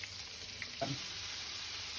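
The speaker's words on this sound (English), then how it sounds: "So we have a whole fish sizzling." Steady hiss of cod pieces frying in a pan, a continuous broadband sizzle with a brief louder crackle near the middle.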